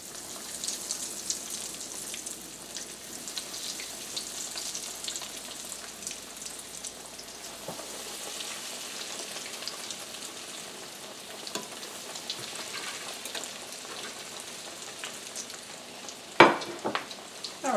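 Steady crackling sizzle of eggplant slices frying in hot oil, continuous and close, with a sharp clatter near the end.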